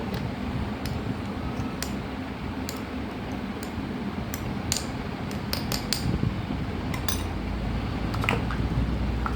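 A long-handled spoon stirs homemade mango pickle in oil, giving scattered clinks and ticks against the jar or pot over a soft wet squishing bed, close and continuous.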